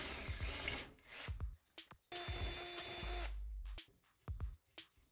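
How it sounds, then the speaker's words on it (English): A power drill grinds through a wooden door in bursts, stopping and restarting several times, with scraping between runs; no one speaks. "Drill in from both sides to avoid splitting the wood."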